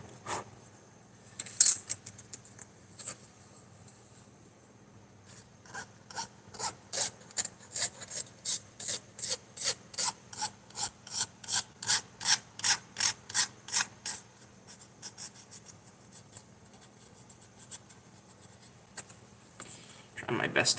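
Hand filing on a part at a workbench: about twenty steady, evenly paced rasping strokes, close and clear, with quieter scraping and brief handling noises before and after.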